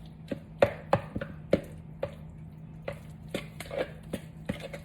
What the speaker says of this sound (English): I'm just gonna mix it together with the garlic, with the spinach.